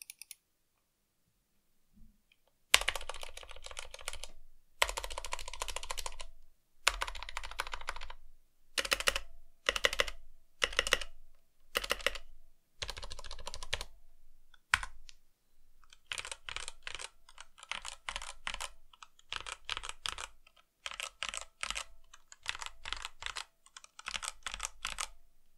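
Continuous typing on a Redragon K552 mechanical keyboard with red switches, stock and unmodified, close up, in rapid bursts of clacking, pingy keys and short pauses, no voices.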